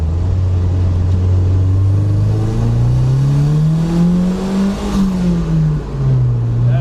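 Turbo Datsun wagon with a GT3582 turbocharger accelerating in second gear, a loud close engine drone rising steadily in pitch, then easing off and dipping near the end.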